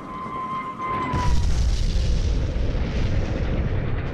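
A bomb explodes into a deep, rumbling boom that swells suddenly after a brief high whine and then rolls on loudly with no voices.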